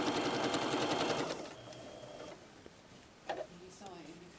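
A sewing machine runs steadily for about a second while stitching a blouse sleeve seam, a close whirring buzz that then stops, leaving quiet handling sounds and a few soft knocks.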